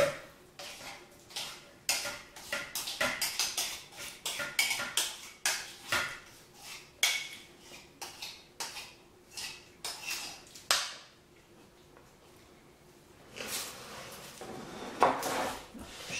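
Chocolate mixture for éclairs stirred in a saucepan, with repeated clinks and scrapes of a utensil against the pot in an irregular rhythm, close and fairly loud, followed by a quieter pause and more clattering.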